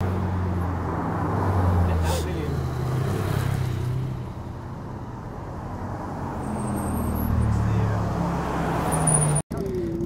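Ten Ferrari supercars file past on the Furka Pass mountain road in Switzerland, a steady near stream of engine drone with rising and falling revs as each car goes by, talk over the top.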